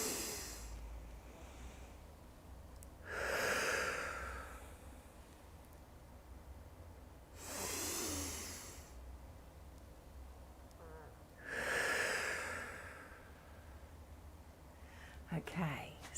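Slow box breathing exercise: three long, loud breaths, each lasting about a second and a half, separated by quiet held pauses of several seconds, ending with a few short sniffs.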